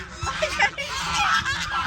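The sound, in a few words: chickens and ducks on a farm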